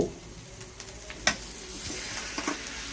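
Pork bones stir-fried in a pan, a soft continuous sizzle with a few light clinks and scrapes of a utensil, fairly faint and close, no talking.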